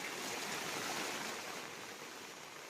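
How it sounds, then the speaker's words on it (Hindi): Floodwater gushing in a strong current through town streets after sudden heavy rain in Buldhana, a steady broadband rush of moving water, fairly faint and continuous, easing slightly toward the end with no voices. "तेज धारा यहाँ पर गलियों में पानी की फूट पड़ी है।"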